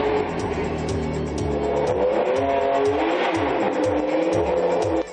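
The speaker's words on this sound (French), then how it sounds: "le fameux bruit du moteur Ferrari, un modèle de 1997 qui cache sous son capot un V12 de 620 chevaux" A 1997 Ferrari with a 620-horsepower V12 revs hard through repeated rising engine sweeps, loud and close with a rich snarling tone, heard alone without speech.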